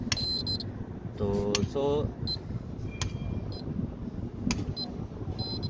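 A continuity tester buzzer sounds in short, sharp, high beeps at irregular moments while someone talks steadily over it during testing of an insulation flange in a cathodic protection installation.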